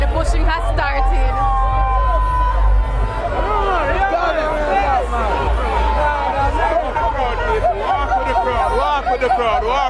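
A dense, pushing crowd at an outdoor concert, with continuous loud chatter and shouting voices all around, close and crowded throughout, with people talking nearby.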